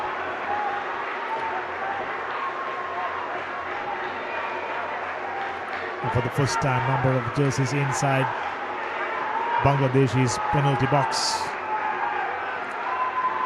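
Stadium crowd at an under-17 men's football match between Sri Lanka and Bangladesh, with a broad roar of cheering beneath steady commentary that swells in bursts of excitement before easing back.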